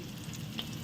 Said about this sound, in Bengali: এবার আমি ছোলার ডালটা ফোড়ন দিয়ে দিচ্ছি